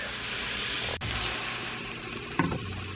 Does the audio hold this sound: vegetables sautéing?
yes